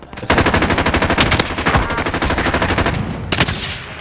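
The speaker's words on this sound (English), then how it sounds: "Oh, there's people shooting again." Sustained rapid automatic gunfire in the shooter game Warzone, loud and close, a dense rattling burst of shots running almost the whole time, with a brief pause and a final sharp volley near the end.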